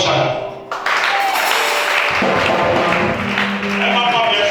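A church congregation applauds, a dense wash of clapping that keeps going steadily, with voices talking over it.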